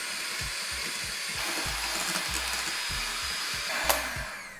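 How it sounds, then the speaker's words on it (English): An electric whisk creams butter and sugar in a bowl, a steady whirring drone with rhythmic low knocks as the beaters hit the bowl, fairly quiet and close. "Today I'm using an electrical whisk"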